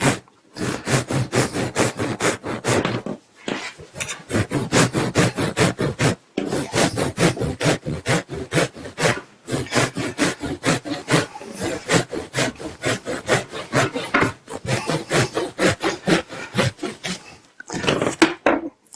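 A hand saw cuts at an angle through an Isonat Plus 55 Flex wood fibre insulation panel in long runs of rapid, loud rasping strokes, close up, pausing briefly between runs.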